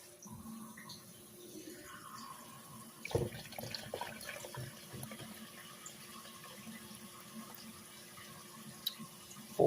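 Tap water runs steadily into a measuring cup, filling four cups for turkey giblet gravy, a continuous moderate splashing with a brief louder surge near the start and no talk.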